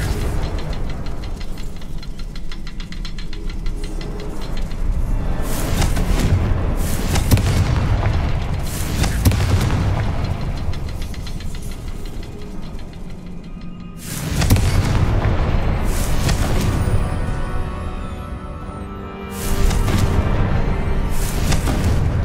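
Confringo blasting spell explosions in Hogwarts Legacy, heavy rumbling booms that swell and roll for several seconds, with fresh loud blasts bursting in at intervals.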